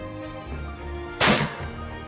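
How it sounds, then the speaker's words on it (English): Air rifle firing a JSB pellet outdoors: one sharp, loud, unsuppressed crack partway through the clip, alone after a low background hum. "Oh, this gun needs a suppressor."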